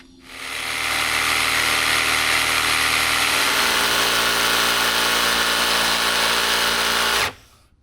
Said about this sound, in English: I'm actually going to use a little trick on my jigsaw where I'm able to angle the cut like this.